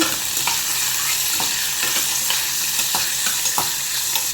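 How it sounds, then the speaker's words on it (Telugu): Thin, long-sliced onions stirred in hot oil for egg curry, a steady broadband sizzle with repeated scraping strokes of the spoon every half second or so, close and fairly loud, no voices. "సన్నంగా పొడవుగా కట్ చేసుకుని ఉల్లిపాయలు వేసాను. ఇవి కలుపుదాం ఒకసారి."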